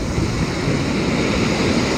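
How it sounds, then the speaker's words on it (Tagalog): Ocean waves roll and wash steadily onto La Union beach under an overcast sky, a loud, continuous surf roar mixed with gusty wind noise against the microphone. "yung alon"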